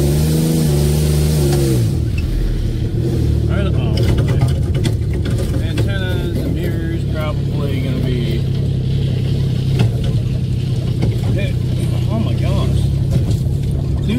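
A fully loaded two-wheel-drive Ford Ranger grinds along a rough road, its mid-pitched engine droning and revving continuously up close while a person talks throughout.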